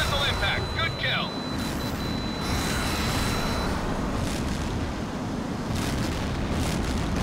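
Missiles strike ground targets in the jet combat game H.A.W.X, a dense, continuous rumble of blasts with a thin engine whine early on, loud and sustained throughout.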